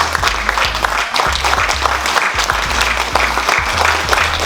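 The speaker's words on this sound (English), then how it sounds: "Can we give them a big round of applause?" A large audience bursts into sustained, loud applause during the opening remarks of a research meeting, with dense steady clapping and no speech.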